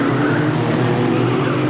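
Formula Ford race car at Brands Hatch sliding through Graham Hill Bend on a track wet with spots of rain in 1990, a loud steady engine roar with tyre scrub held throughout, close and continuous, without talk.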